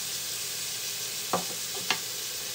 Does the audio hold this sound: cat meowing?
no